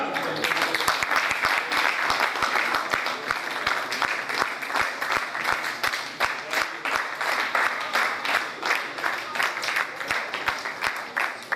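A mushaira audience applauds warmly as the poet Afzal Khan is welcomed, dense sustained clapping filling the hall throughout with some voices mixed underneath.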